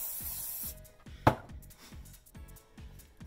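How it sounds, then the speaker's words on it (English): A brief burst of hairspray hisses onto hair during a double French braid hairstyle, a bright spray lasting under a second over a soft, steady rhythmic thumping in the background. "Spray the hair first."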